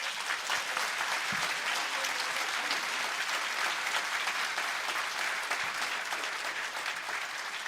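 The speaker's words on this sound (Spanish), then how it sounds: "Más fuerte ese aplauso, hermanos, para la gloria de nuestro Dios" Sustained, loud applause from a church congregation during a theological debate on the Eucharist, steady clapping filling the whole stretch with a faint murmur of voices underneath.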